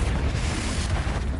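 Confringo fire spell in Hogwarts Legacy bursting as a short, loud, dense boom with a rough, noisy roar, over in about a second.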